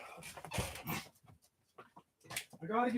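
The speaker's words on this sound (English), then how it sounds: "I don't know why that dog always comes in here thinking I got food for it, man" A dog whimpers and whines in a room, soft high-pitched whines coming in short bursts with pauses between, close by, with a voice talking over parts of it.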